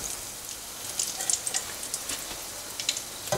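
Kofta balls frying in hot oil for malai kofta, a steady soft sizzle with scattered light pops and crackles, close and fairly quiet, no talk.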